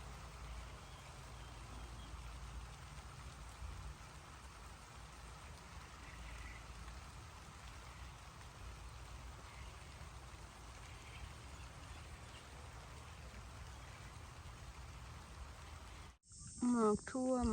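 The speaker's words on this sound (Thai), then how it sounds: "บรรยากาศในมื้อฝนตก" Steady rain falls outdoors during a meal in the countryside during a forest foraging outing, a continuous even hiss with faint insect chirps beneath. A voice speaks briefly at the very end.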